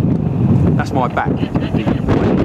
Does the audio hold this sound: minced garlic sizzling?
no